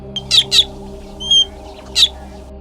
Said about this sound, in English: There's this African bird called the fork-tailed drongo that's really good at tricks.